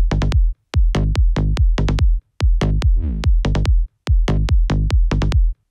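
Synthesized prog bass in a driving electronic style pulses in tight, punchy, evenly spaced plucky notes, loud and upfront, with a brief pitch-sweeping flourish midway and short pauses between phrases.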